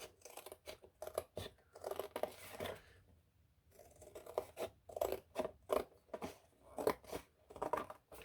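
Scissors snip through fabric to cut a triangle from a template, a close run of crisp, rhythmic cuts in quick bursts with a short pause in the middle.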